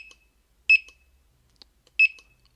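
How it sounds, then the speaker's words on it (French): A handheld barcode scanner beeps twice as it reads barcodes during an inventory: two short, sharp, high electronic bleeps about a second apart, otherwise near silence. "biper quelques codes barres"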